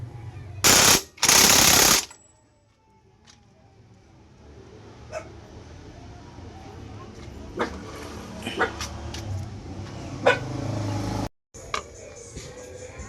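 An impact wrench hammers bolts tight on a car's CVT, with two loud rattling bursts near the start, followed by quieter workshop clanks and knocks under a low background hum.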